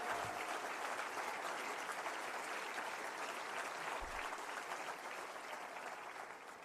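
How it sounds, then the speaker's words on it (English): Sustained applause from a county chairs' brunch crowd standing for organized labor, a dense, even roar of clapping that holds steady and tapers slightly toward the end, with no voices over it. "I ask all our friends in organized labor, please stand up for a round of applause."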